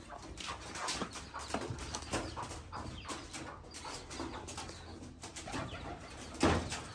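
Pigeons being fed coo softly at a distance, with low, repeated calls over faint outdoor background rustle and a brief thump near the end. No one talks.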